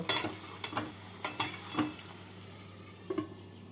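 A spoon stirs paneer posto in a pan after the gas is turned off, giving a few quiet, scattered scraping clinks against the metal with pauses between them.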